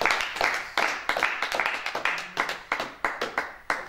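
A church congregation claps rhythmically in acclamation of Jesus during worship, a steady run of sharp, fairly close hand claps with faint voices underneath.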